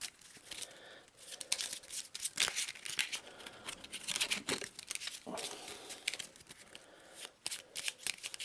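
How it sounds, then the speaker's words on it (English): A deck of common item cards for the Arkham Horror board game being riffle-shuffled by hand, a steady close run of flapping, ruffling card noise with quick bursts and no talking. "Give it another quick shuffle."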